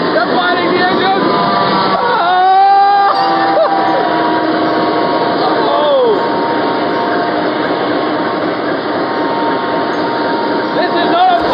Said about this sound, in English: this is just the starting up of the engine. They're going to get a lot louder.